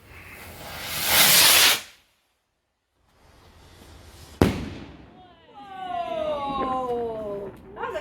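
Fireworks going off outdoors: a loud crackling, hissing burst, then a pause, a sharp bang, and whistling, screeching shells rising and popping, with excited voices reacting throughout.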